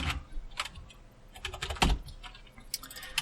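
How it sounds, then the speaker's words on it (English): Quick, irregular clicks of typing on a computer keyboard while coding an Android app in Kotlin, close and fairly soft, with short bursts and brief pauses and no talking. "as I'm typing this out"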